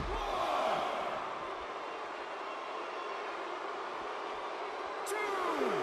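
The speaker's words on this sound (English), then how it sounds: "by the sound of this crowd, I think they're getting what they wanted." A large wrestling arena crowd in the video game WWE 2K16 roars steadily throughout, a dense wall of cheering that swells slightly at the start and near the end.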